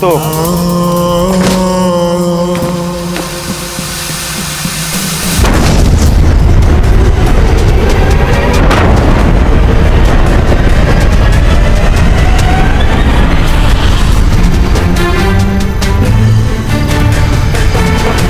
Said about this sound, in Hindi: चाहे जो भी हो जाए, हमारी तोप से आग निकलना बंद नहीं होना चाहिए।